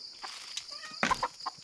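Pet chickens cluck close by at feeding time, with a few short clucks and throaty calls scattered over a steady outdoor hiss and no speech.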